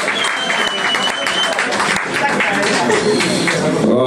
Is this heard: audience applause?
yes